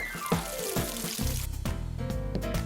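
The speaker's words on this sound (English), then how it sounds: "empty the water from the bottom of the container every day and fill it up with fresh water, like so" Water is tipped out of the bottom of a seed-growing container and fresh water is poured back in, a close run of splashing and gurgling pours with bubbly, trickling tones.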